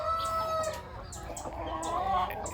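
Several chickens in a coop crowded with hens cluck and cackle close by in a dense, continuous chorus, with a brief crow-like call among them and no talking.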